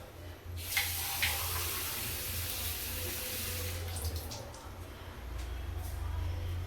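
Water is poured into a cooking pot for goat intestine soup, a soft continuous splashing stream heard close in a quiet kitchen.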